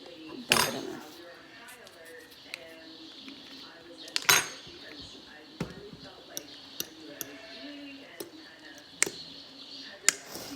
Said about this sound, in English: You want to mix it in there before you strain your noodles.